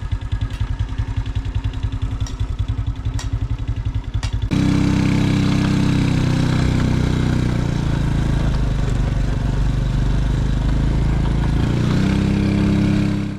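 Motorcycle engine while riding out of Pak Beng town in Oudomxay Province, Laos: a steady, loud, close drone that shifts to a fuller, rougher roar partway through as the bike moves along, with no talk.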